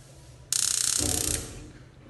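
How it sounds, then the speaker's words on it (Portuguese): A stove burner is lit under containers of water and coffee, with a sharp ignition hiss and clicking rush that quickly gives way to a lower roar of the flame catching, lasting about a second before settling. "E ligará o fogo"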